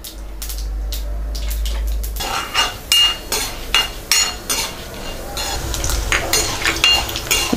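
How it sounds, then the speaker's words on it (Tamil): Mustard seeds splutter and pop in hot oil in a pan, a rapid burst of sharp crackles and pops heard up close, after a brief stretch of low hum. "கடுகு நல்லா பொரிஞ்சிட்ருக்கு."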